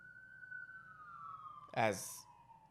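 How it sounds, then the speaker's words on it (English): A steady, slowly falling police siren wail rings in the distance, interrupted near the end by a brief, loud burst of a voice close by. "There's sirens in the background."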